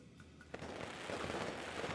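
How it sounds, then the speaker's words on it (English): Firecrackers go off at a festival in the game Nine Sols. A sharp bang is followed by a sustained crackling roar that fills the rest of the moment, at moderate loudness with no voices. "Wow, firecrackers."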